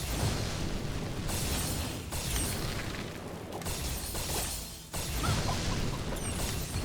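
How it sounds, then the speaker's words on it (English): A video game explosion spell in a spell-casting dungeon crawler gives a dense, continuous roar of blasts and crackling debris. The noisy rumble runs loud and steady throughout, with a brief dip near the end before it surges again. "I wish I had a better explosion spell"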